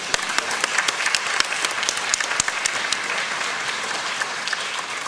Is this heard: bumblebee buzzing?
no